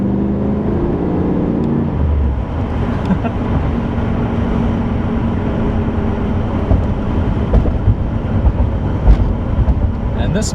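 A 1988 Chevrolet Camaro Z28 IROC with a 5.7-liter V8 rumbles steadily while driving, a deep continuous engine drone with a brief throaty surge near the start, under someone talking.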